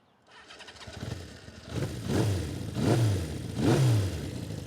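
A Honda CB550 motorcycle's starter motor whirs briefly, then the engine catches and revs up in three rising bursts, loud and close.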